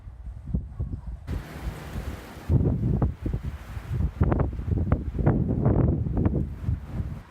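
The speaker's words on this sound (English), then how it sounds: "It got super windy, so I had to escape to a covered area" Strong outdoor wind buffets the microphone in loud, rough gusts that rise and fall throughout, with no voices.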